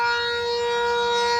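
A Minni Sentry tornado siren in Winchester, Kentucky, sounds during a test: a loud, sustained, steady mechanical wail held at one pitch throughout, with no voices.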